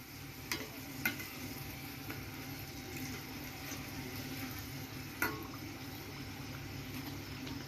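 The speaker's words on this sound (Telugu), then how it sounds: "ఇలా వేయించుకోవాలా" Food fries in a pan with a low, even sizzle, while a few sharp clicks of stirring stand out now and then, fairly faint and with no voices.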